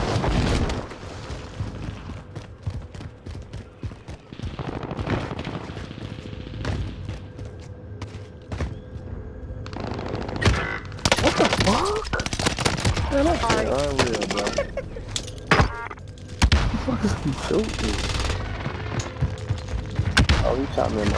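Call of Duty gunfire rattles through most of the scene, mixing rapid bursts and single shots under in-game effects and chatter, with players talking over it throughout.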